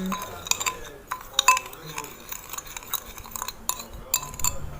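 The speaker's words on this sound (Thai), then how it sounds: "ส่วนผสมคนให้เข้ากัน" A utensil stirs a mixture in a container, producing light clinks and scraping taps at an irregular rhythm, close and fairly quiet, with faint background sounds in between.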